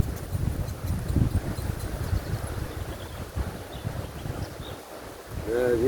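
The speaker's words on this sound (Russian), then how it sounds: "Да, ветер" Strong outdoor wind buffets the microphone in low, uneven gusts, with a brief voice at the end.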